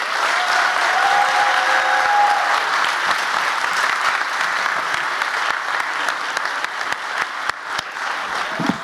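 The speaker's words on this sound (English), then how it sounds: "Can we give them one more round of applause?" Loud, sustained audience applause fills a University of Chicago Graham School convocation hall, with a few cheers early on and the clapping gradually thinning into scattered individual claps.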